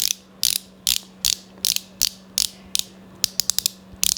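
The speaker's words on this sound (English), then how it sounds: "It's one of those that you like twist up, and then the product comes out in the sponge." A twist-up drugstore concealer stick with a sponge applicator gives sharp, close ratcheting clicks at a steady rhythm of roughly two per second, closing with a quicker burst of lighter clicks over a faint steady hum.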